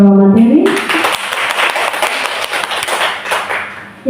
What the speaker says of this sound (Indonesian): Sekali lagi kita memberikan aplaus untuk pembawa materi.